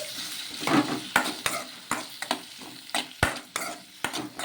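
Chopped tomato, onion and green chillies fry in a little oil, stirred with a spoon that clacks and scrapes against the pan in repeated sharp strokes over a soft sizzle.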